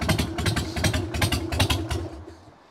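A Harley-Davidson Sportster motorcycle settles into its idle: a close, loud, lumpy rhythm of uneven thumping pulses that fades slightly at the end.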